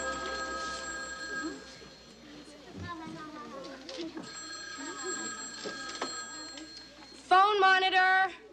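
A telephone bell rings in an American sitcom scene, a trilling ring that repeats under and between people talking, ending in a louder burst near the close.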